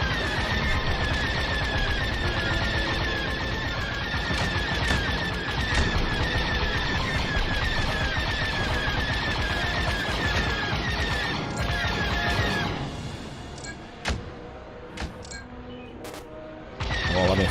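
Enemy gunfire rattles in a dense, continuous barrage through a combat video game, loud and close. It thins into a few scattered shots and clanks near the end, with no voices.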